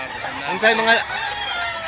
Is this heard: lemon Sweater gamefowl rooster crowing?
yes